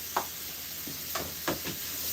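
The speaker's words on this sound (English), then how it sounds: "So I'm sauteing all of this." Rice sautéed in a pan with mango, cilantro and lime, a soft steady sizzle with a few light scraping stirs, close but quiet.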